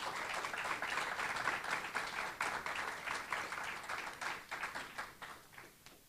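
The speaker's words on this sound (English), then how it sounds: "Let's have another big round of applause for our Teachers of the Month." An audience at a school celebration ceremony applauds, a dense, steady wash of many hands clapping that carries on for several seconds before starting to thin out.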